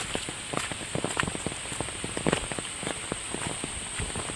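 Rain patters onto a road, a steady hiss broken by many close, irregular drip and splash ticks at moderate volume.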